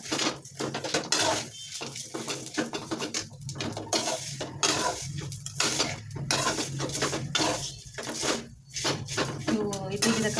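Metal utensil scraping and clinking in a pan while something roasts in oil over a low flame, with steady irregular clatter and scraping throughout and a faint background voice.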